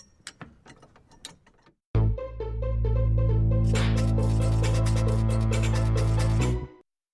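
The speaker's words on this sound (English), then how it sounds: "Now, slowly ratchet the jack until pedals have been moved the desired amount." A first responder jack is ratcheted in a steady run of metallic clicks lasting several seconds, close and fairly loud, after a few separate knocks.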